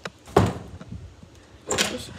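A door kicked open outdoors, heard as two loud, short impacts about 1.4 seconds apart, each with a brief rattling tail, with quieter shuffling between.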